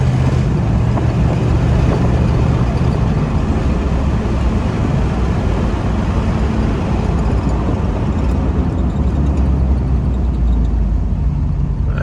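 A 1965 Ford Mustang cruising on a road, with a steady, loud, continuous engine drone and road and wind rumble that holds constant throughout, no voices.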